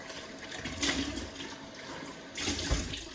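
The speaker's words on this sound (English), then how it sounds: "I'm gonna go grab a bucket because I'm actually gonna reuse this water." Dirty water from washing kale pours out into a bucket, two splashing bursts of moderate loudness separated by a quieter trickle, with no talking.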